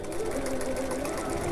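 A domestic sewing machine runs steadily, back stitching at the end of a turning gap on a fabric sling bag, a continuous close mechanical whir with a fine rapid needle rhythm and no pause.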